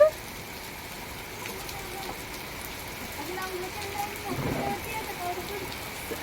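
Steady soft patter of rain falling, a faint even hiss throughout with no voices.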